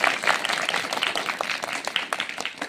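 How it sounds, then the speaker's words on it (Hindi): A crowd gives a steady, loud round of clapping for village students from Sunadi who passed the NMMSS exam. The applause is dense and sustained throughout, with no pause. "एक बार जोर से तालियां खुशी के लिए सब लोग बजाओ।"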